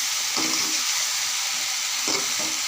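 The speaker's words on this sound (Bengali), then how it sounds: "আমি সবজিগুলো দিয়ে দিয়েছি, এখন আমি নাড়িয়ে নেব।" Green tomato, beans and eggplant fry in a pan with a steady loud sizzle, while a spoon stirs through them in a few scraping strokes.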